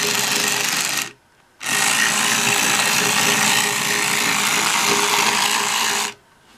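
A 1998 Japanese remote-controlled Mewtwo toy drives backwards and forwards, giving a steady, close whirring motor buzz that stops briefly near the start and cuts out again at the end.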